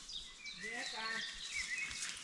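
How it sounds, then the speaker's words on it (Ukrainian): Birds singing in a forest during a summer mushroom-picking walk, faint scattered chirps and tweeting calls at a distance, quiet and airy, with no one talking. "Ну, як гарно птахи співають"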